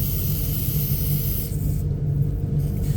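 Water sprays steadily from a leaking copper water main pipe in a roof space above electrical cables, a close, continuous hiss over a low rumble.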